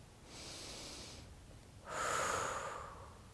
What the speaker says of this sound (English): Few big inhales and exhales.